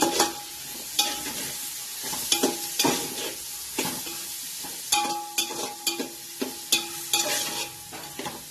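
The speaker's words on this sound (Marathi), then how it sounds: "आणि वटाण हे चांगलं आता मिक्स करायचं." Peas, cauliflower and other vegetables for pav bhaji are stirred in a pan, a spoon scraping and knocking in a steady rhythm of close clattering strokes over a light frying sizzle.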